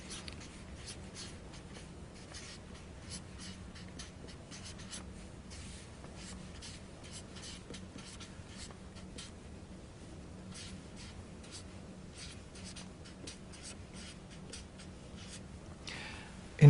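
A pen scratches out handwritten partial-fraction algebra, faint continuous strokes with short pauses between marks, close and quiet throughout.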